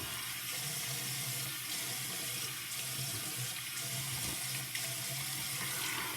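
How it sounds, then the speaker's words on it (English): A shaving mug is rinsed under a running tap, producing a steady close stream of water splashing into a sink, continuous and alone with no talk. "Let's rinse this mug of mine now."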